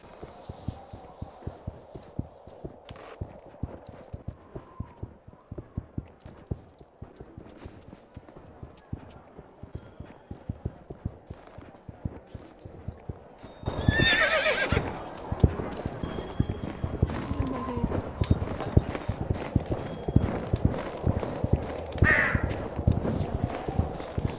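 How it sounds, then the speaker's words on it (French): Steady hooves clop in an even rhythm on hard ground, joined midway by louder clattering, crows cawing and a brief whinny. "Un cheval"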